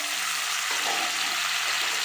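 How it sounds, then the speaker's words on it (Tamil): Tomatoes, carrots and beans for a vegetable kurma sauté in a hot pan, a loud continuous hissing sizzle with a brief stirring shuffle midway; no voices. "இதை நல்லா வதக்கிக்கலாம்"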